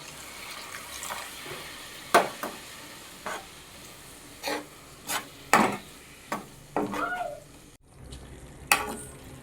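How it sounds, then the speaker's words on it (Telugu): Water is added to a restaurant-style paneer masala curry gravy and stirred in, giving a string of separate scraping and sloshing strokes over a low sizzle, close and fairly loud. "ఇంకొంచెం గ్రేవీ కావాలంటే వాటర్ యాడ్ చేసుకోవాలి. ఇంకొంచెం వాటర్ యాడ్ చేస్తున్నా."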